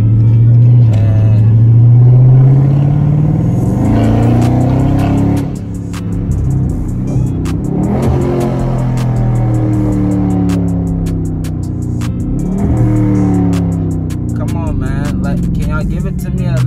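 A Dodge Scat Pack's engine and exhaust rumble low and steady while driving, swelling and easing with throttle changes, with someone talking over it throughout.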